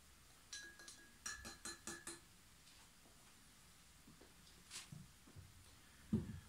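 Homemade raki with pure anise oil stirred in glass: a series of quick bright clinks and ticks of a spoon against the glass early on, then a few softer taps and a low knock near the end, in a quiet room.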